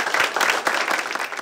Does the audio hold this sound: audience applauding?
yes